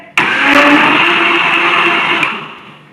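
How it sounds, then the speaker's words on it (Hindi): A blender making cold coffee starts abruptly and whirs loudly and steadily for a couple of seconds, then winds down as the motor slows. "एक दफ़ा दोबारा चला लेते हैं ब्लेंडर।"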